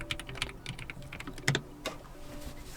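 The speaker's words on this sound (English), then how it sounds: "Let me just quickly type that." Quick typing on a keyboard comes through as a short run of crisp, close key clicks with uneven rhythm and one harder tap near the middle, quiet and alone.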